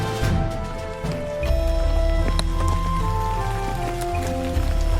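Drizzling rain in a forest setting, a dense steady patter of drops with scattered louder splats and a low rumble that swells after the first second-and-a-half.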